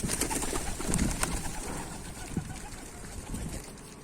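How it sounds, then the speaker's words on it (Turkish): A pigeon coos softly a few times amid faint outdoor background noise, somewhat distant and quiet. "Bir kuş var orada."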